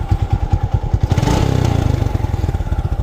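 Engine of a 2019 Suzuki Gixxer SF 155 motorcycle idling, then blipped and revved, a loud close-up pulsing putter with a rising rev near the middle before settling back to a steady fast thrum.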